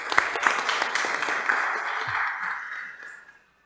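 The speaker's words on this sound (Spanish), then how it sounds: "recibimos con un fuerte aplauso al profesor Leiser León Hilario" A conference audience at a lecture on judges' civil liability gives a steady round of applause welcoming a professor, a dense wash of clapping that holds for about three seconds and then stops abruptly.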